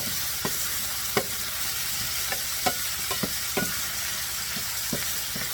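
Ground turkey frying in a pan over medium heat hisses steadily while a utensil stirs it, scraping and tapping the pan every second or so, close and clear with no voices.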